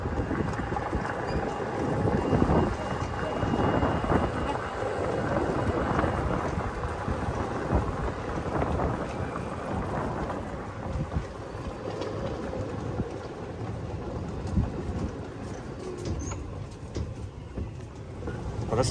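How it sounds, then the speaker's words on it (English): Strong wind buffets the microphone during a driving tour near a beach villa on Phu Quoc, a steady rough roar filling the whole stretch with occasional gusts, and faint voices beneath it. "You gotta speak louder, it's well windy."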